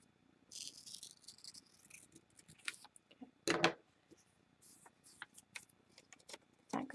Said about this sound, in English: And then we're going to cut out the next shape.